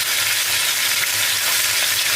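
Meat fries in hot oil in a pan, giving a loud, continuous close-up sizzle with no voices.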